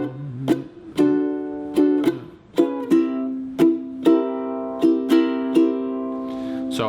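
Ukulele strumming a 12-bar blues with a down, mute, down, up, down pattern: bright, even strums with short choked beats and ringing chords in a steady rhythm, played close and alone.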